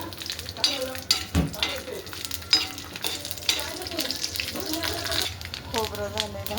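Coconut roasting in a pan for a mutton curry, a steady sizzling crackle with stirring scrapes running throughout, with a voice talking over it.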